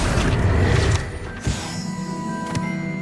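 An Accio summoning spell in Hogwarts Legacy sounds as a dense whooshing rumble that cuts off, then a sharp magical snap and shimmering tonal hum, ending with another bright crack over a faint sustained ringing.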